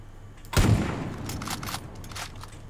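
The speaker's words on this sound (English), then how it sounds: "This gun is very, very loud." A gun fires in the video game Far Cry 5: one loud, booming shot followed by a long echoing tail with fainter bursts rolling after it.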